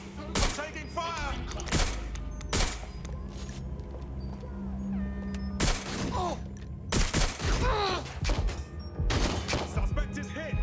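Gunfire in the video game Watch Dogs Legion: repeated loud bursts of shots and fusillades spread across the span, with game voices and a music bed underneath.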